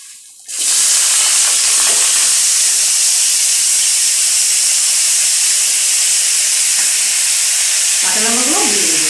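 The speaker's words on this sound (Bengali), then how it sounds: "কড়াতে এখন তেল দিয়ে সবজিগুলোকে আমি সামান্য সাদা তেল দিয়ে" Vegetables fry in a little white oil in a wok, giving a loud, continuous, steady sizzle that starts abruptly and holds throughout, with a short tonal sound appearing near the end.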